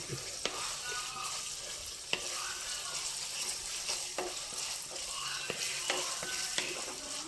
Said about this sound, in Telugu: మనకు ఆనియన్ నూనెలో ఆయిల్లో తొందరగా వేగిపోతుంది అన్నమాట